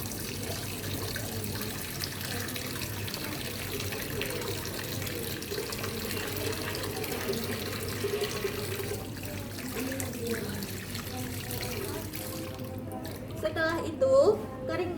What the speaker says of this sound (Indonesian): mencuci tangan dengan 6 langkah efektif